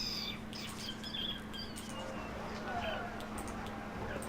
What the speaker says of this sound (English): It's a talking bird.